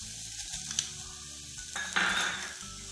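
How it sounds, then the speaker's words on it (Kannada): Onion, garlic and ginger sizzle steadily in a hot pan while being stirred for a vegetable pulao, with a few utensil scrapes and clinks over the continuous frying hiss; no voices. "ಇದು ನುಣ್ಣಗ ಕರಿಯೋದಕ್ಕೆ ಈರುಳ್ಳಿ ಬೆಳ್ಳುಳ್ಳಿ"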